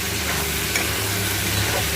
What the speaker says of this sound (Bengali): এখন আমি এটা ভালোভাবে কষিয়ে নিব